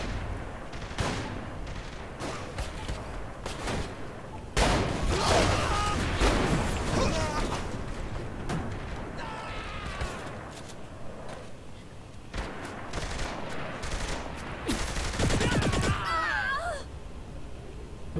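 Cyber gun firing in Saints Row The Third, with repeated sharp electronic shots and bursts amid game effects, loud and close, with occasional talk.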